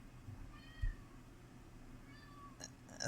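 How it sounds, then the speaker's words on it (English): A cat meows faintly a couple of times in a quiet room, the calls soft and drawn out. "Just a big fat male cat here."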